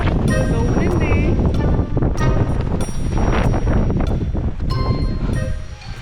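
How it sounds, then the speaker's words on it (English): Gusty wind buffets the microphone on an exposed hilltop trail along the Southern Upland Way between Melrose and Traquair, loud rumbling roar with shifting surges, while a person talks over it in bursts. "So windy."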